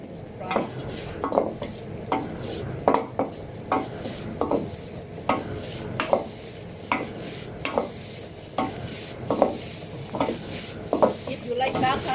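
Thai-style fried rice tossed and stirred in a hot pan with tomato sauce, steady sizzling frying under repeated sharp scraping strokes of a spatula against the metal in a regular rhythm, close and fairly loud.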